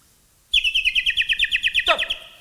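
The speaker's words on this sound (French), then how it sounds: "c'est le début du chant du rossignol" A nightingale sings a rapid, loud trill of about a dozen evenly spaced pulsing notes, ending in a sharp downward flourish, close by and alone.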